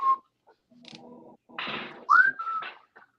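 A person whistles a few short notes, one rising slide and a held tone, amid faint background murmur and clatter.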